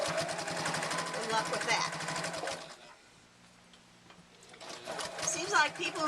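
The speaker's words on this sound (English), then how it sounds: "this is where machines kind of can bog down if they're not used to sewing heavy, thick stuff" Sewing machine running fast through thick, heavy wallet material, a dense rapid stitching rhythm that stops for a moment and starts again, heard close under a person talking.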